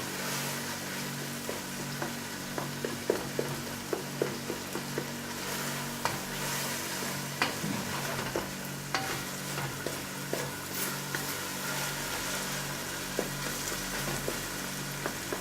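Tomatoes fry and sizzle in a pan for a masala fish curry, with a constant hiss broken by repeated scraping and tapping stirs at close range, no talk over it.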